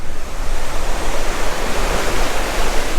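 Steady ocean surf breaking on a California beach, a continuous loud wash of broadband noise with gentle swells in level and no voices.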